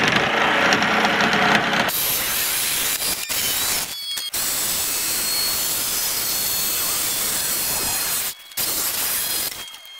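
A power saw cutting plywood to length, a loud continuous whining roar close up with a few brief drops in sound.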